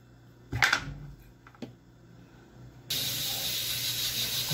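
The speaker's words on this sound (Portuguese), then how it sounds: "As panelas estão aqui, ó, todo vapor." Cooking pots on a home stove give off a steady, fairly loud steam hiss that starts suddenly partway through, after a few brief knocks and clatters.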